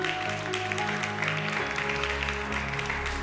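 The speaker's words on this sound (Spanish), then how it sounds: "Dele un fuerte aplauso al Señor." A church congregation at an evening service breaks into loud, sustained applause, a dense wall of clapping that holds steady throughout with a low musical drone underneath.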